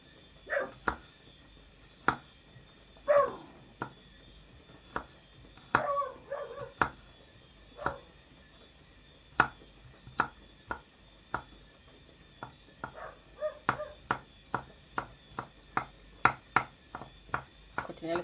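A knife chops garlic finely on a cutting board: crisp, evenly spaced taps at close range, fairly quiet, with a brief cluster of softer clatter partway through and no talk.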